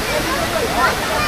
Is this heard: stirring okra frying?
no